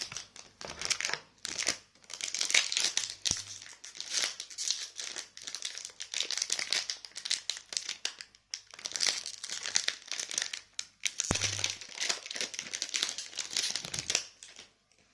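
Foil wrapping crinkles and crackles as a subscription box is opened, with dense bursts of crumpling and tearing that come in two long spells and are separated by a brief pause, fairly close with no talk.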